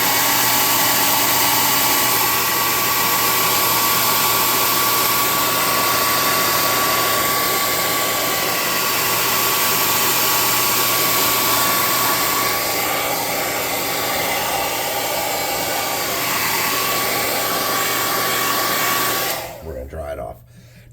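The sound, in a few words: hot air gun blowing on a model locomotive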